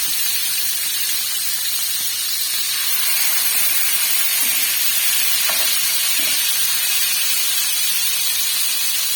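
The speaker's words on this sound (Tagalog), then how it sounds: "Ito ang tumatalsik. Takot na takot pa naman ako sa mantika." Hot oil sizzling while frying pork steak, a loud, steady, bright hiss with faint pops and spatters, close and continuous without talk.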